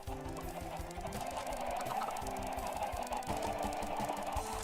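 Many chickens cluck on a Minecraft chicken farm, a constant overlapping chorus of short rhythmic clucks, fairly close and continuous.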